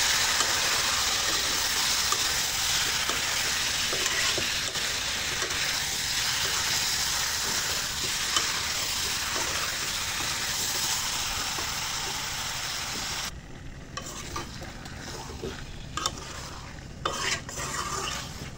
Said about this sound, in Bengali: এখন আবারও ভালো করে নেড়ে চেড়ে নেব।